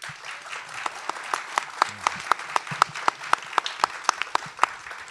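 An audience at a Memphis mayoral debate applauds the candidates with steady, dense clapping and a few sharp, prominent claps standing out close by, held throughout.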